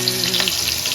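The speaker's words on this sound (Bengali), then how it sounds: "তেলে নিয়ে আমি একে একে যে সবজিগুলো সেদ্ধ হতে একটু সময় লাগে সেই সবজিগুলো আমি প্রথমে নেড়ে দিলাম" Vegetables, including cauliflower, sizzle in hot oil in a pan, a dense close hiss of frying with a faint stir partway through and a low hum of background music underneath.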